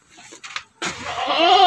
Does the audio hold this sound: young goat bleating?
yes